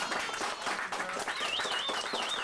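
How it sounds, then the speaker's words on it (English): An audience at the Oregon Undersea Gardens in Newport applauds their tour driver, a dense, steady patter of clapping hands that continues throughout, with a high whistling tone rising over it in the second half. "Well, why don't we go and give Bob a great big round of applause, and thank you for being our driver."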